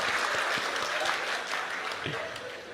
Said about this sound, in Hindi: अब वही लोग ताली बजा रहे हैं जो मॉर्निंग वॉक पर नहीं जाते।